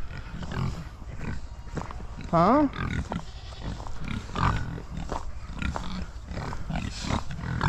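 Pigs on a farm grunting and snorting close by, with a brief high squeal among repeated low grunts, while a person talks briefly.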